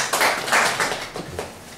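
An audience at a business meeting applauds in a short, dense burst of clapping that is loud at first and then thins out.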